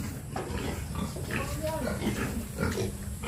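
A mother pig grunts in short, low bursts close by on a farm, with other pigs' oinks mixed into the steady background.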